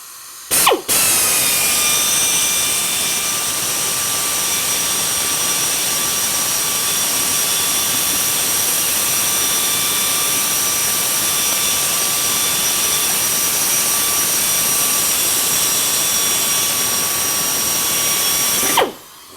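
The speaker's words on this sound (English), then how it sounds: "I figured I'd wait till he was done drilling" A power drill drilling sheet metal for a car floor pan whines at a steady high pitch for many seconds, loud and continuous, starting and stopping abruptly.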